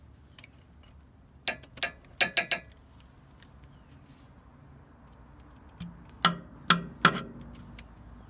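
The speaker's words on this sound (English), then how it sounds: "we switched over to a 3/8 ratchet with an extension" Sharp metallic clicks of a 3/8 ratchet with an extension backing out driveshaft bolts on a Chevy Silverado 2500, in two short bursts of several quick ratcheting ticks each, separated by a quiet pause.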